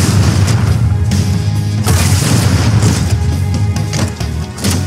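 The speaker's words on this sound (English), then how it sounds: "I just shoot the rock twice." Two gunshots are fired at a rock in Halo 2, loud and close over a dense, rumbling battle din with booming impacts throughout.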